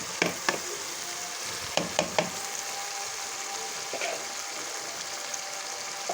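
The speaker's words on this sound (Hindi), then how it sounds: "इनका अच्छी तरह से हम मसाला भून लेंगे।" Onion and tomato masala for a fish curry sizzles steadily in a hot pan, with a few sharp spoon scrapes and taps from stirring cutting through the constant frying hiss.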